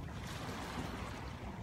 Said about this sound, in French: Vous entendez les vagues derrière, ça fait tellement du bien.